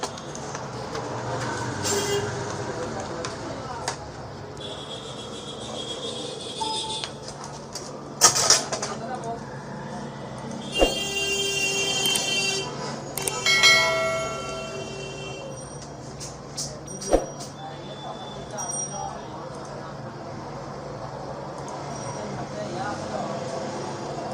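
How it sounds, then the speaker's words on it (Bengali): An Epson L380 inkjet printer, just cleared of a paper jam, prints nearby with a steady mechanical whir and rumble, punctuated by a few sharp clicks and clatters as the carriage moves, while a voice speaks over it. "এই যে দেখেন প্রিন্ট হচ্ছে।"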